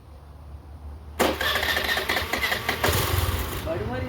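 A driving school car engine cranks and catches abruptly, then settles into a steady idle and keeps running. Someone talks near the end.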